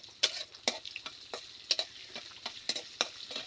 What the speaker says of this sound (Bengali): এটাকে আমি ভালোভাবে নেড়ে চেড়ে ভালোভাবে ভেজে নেব